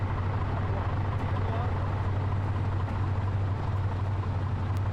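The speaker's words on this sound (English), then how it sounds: "I couldn't quite hear you over the engine." Steady low engine drone of a water truck runs throughout at constant level, a continuous rumble with broadband noise above it; no clear speech stands out.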